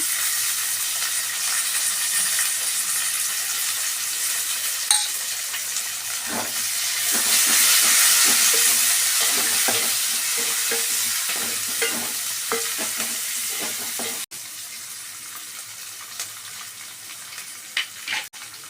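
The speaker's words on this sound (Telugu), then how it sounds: "ఇప్పుడు కరివేపాకు వేసుకున్నాము ఈ మెంతం కూర కూడా వేసుకున్నాము నూనెలో వేగాలి" Curry leaves and fenugreek leaves fry in hot oil in a pan, a loud continuous hiss and crackle that swells in the middle, with occasional stirring clacks, then drops to a quieter sizzle.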